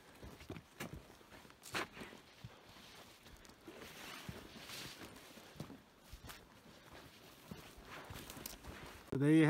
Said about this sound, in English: Walking through the woods.